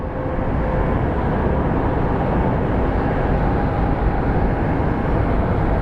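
Airliner at Phoenix Sky Harbor International Airport, a loud, steady broadband roar of jet engines sustained without a break, heard close and continuous with no talking.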